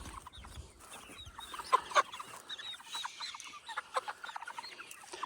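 A flock of chickens being caught for transport to processing cluck and squawk in quick, scattered bursts, with some loud nearby calls among fainter ones and soft shuffling, and no speech.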